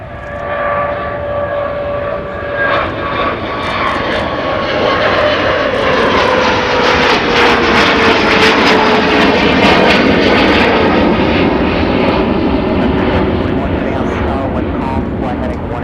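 A jet airliner passing close at Minneapolis–St. Paul airport, a loud sustained engine roar with a falling whine that swells and lingers across the whole stretch, with a faint voice underneath.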